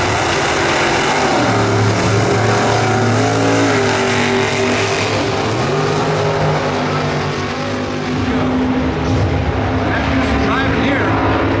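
Sportsman drag racing cars at the NHRA Sonoma Nationals roar loudly and continuously, engines surging and shifting pitch as they launch, with a commentator talking over the noise.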